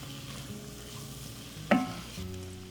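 Flour cooking in a pot for chicken pot pie filling, a steady low sizzle with faint stirring scrapes and one sharp utensil clack partway through.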